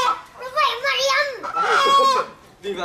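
Hens and chickens cluck and squawk close by in a rural Vietnamese yard, a few short bursts of fowl calls overlapping with children's voices chattering nearby.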